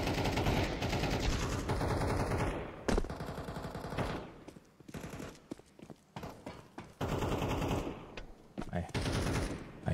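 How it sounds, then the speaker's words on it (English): Bursts of rapid gunfire in Counter-Strike 2 crackle in and out, loud volleys broken by short quieter gaps, with synthetic game effects layered in. "I hear the gunshots."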